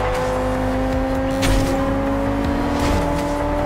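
A car in Forza Horizon 2 accelerates hard toward a speed trap, a loud steady engine tone holding at high revs with a couple of brief bumps of extra noise, no voices.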